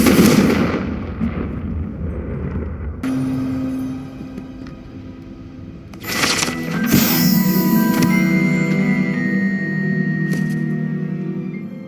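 Confringo fire spell blasts from the Hogwarts Legacy video game, a series of sharp explosive bursts with crackling, fiery tails that land every second or two, loud and close with no talking.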